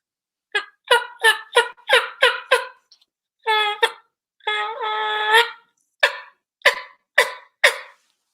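A multi-reed turkey call imitates turkey yelps: a run of sharp, raspy yelps in quick succession, then a longer drawn-out note and a sustained rattling call, followed by more evenly spaced yelps, loud and close.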